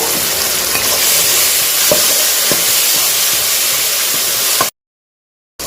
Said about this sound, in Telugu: ఇందులో నేను అల్లం పేస్ట్ అయితే వేసేసుకుంటున్నాను